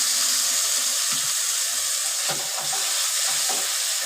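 Onion frying in a pan for sevai upma, a soft steady sizzle running throughout with occasional stirring scrapes and light clinks, close and moderately loud, with no talking.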